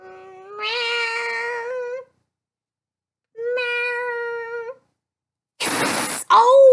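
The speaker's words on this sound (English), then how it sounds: "Oh, it's a cat. A cat, a kitty cat." A domestic cat meows twice, long drawn-out cries separated by a pause, followed by a sharper, higher meow that cuts off abruptly, close and clear with nothing else around.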